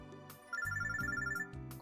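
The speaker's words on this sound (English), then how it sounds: "I'm getting a phone call." A cell phone ringtone from the video game Robotics;Notes Elite plays a bright, repeating electronic melody of short tonal notes, clear and alone.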